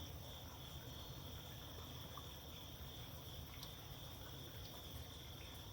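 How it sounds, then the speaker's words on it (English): Crickets chirp steadily in a soaked, wet backyard in the morning, a faint continuous high trill with a few brief clicks over a low, quiet outdoor hum. "I hear the crickets,"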